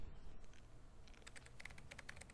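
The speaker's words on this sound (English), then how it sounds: "The room was filled with the sound of clicking keys." Computer keyboard keys clicked in quick, uneven bursts as someone types in a quiet room, sharp close taps over a low hum, busiest toward the end.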